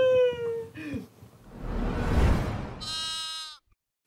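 A sheep bleats in a few loud, wavering calls, close and clear, with a low rumbling stretch between the cries.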